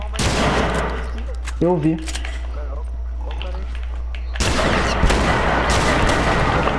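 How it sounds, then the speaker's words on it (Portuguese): Gunshots in The Last of Us Remastered, fired at a bomb, come as rough bursts of noise near the start and a longer, louder stretch of fire in the second half, and a voice briefly speaks partway through. "Mano, eu atirei na bomba, a bomba não explodiu, mano."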